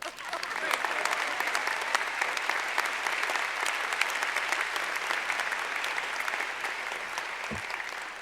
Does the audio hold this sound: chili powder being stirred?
no